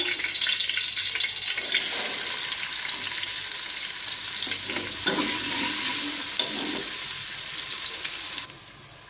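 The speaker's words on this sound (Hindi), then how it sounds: "ऑयल मैंने डाल लिया है। अब मैं डालूँगी इसमें प्याज चॉप किया हुआ।" Chopped onion sizzles and crackles loudly in hot oil in a pan, cooking for a lentil and pumpkin dish. The frying hiss is steady and close throughout, with no talking.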